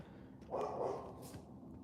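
A dog gives a short burst of barks and yips in a rural setting, moderately close, over a steady low background hum.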